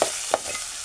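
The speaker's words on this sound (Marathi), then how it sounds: "कांदा चांगला लालसर होईपर्यंत परतून घ्यायचा." Finely chopped onion fries with ginger-garlic paste in a pan, a brief close sizzle marked by a couple of quick stirring scrapes.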